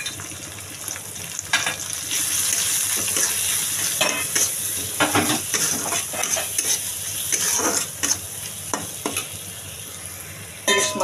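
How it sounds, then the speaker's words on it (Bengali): Hilsa fish pieces coated in salt and turmeric fry in hot oil with a continuous sizzle, punctuated by frequent clinks and scrapes of a utensil against the pan, close by and without talk. "আমি ভালো করে মাছটা ভেজে নেব।"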